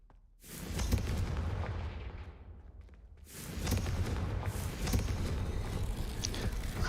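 Confringo fire spell blast in the Hogwarts Legacy video game: a loud burst followed by a rumbling, crackling roar that fades, then a second sustained wave of booming noise.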